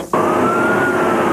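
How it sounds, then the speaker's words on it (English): An ambulance siren wails during an emergency response to a school shooting, starting abruptly after a brief quiet moment and then holding a loud, sustained tone over a rumble of traffic. "ambulances rush the injured to area hospitals"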